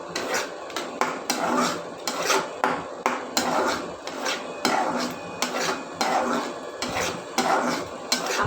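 A utensil scraping and stirring inside a pot of hot water with black pepper, giving rhythmic rasping strokes and metallic clinks repeated steadily, close by with no talk.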